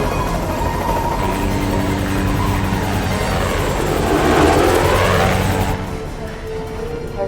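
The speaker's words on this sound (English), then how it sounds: "Just give the engine time to kick in." An aircraft engine starting up: a loud, steady propeller drone with a throbbing, whirring buzz that swells in intensity toward the middle before dropping off, heard close and alone.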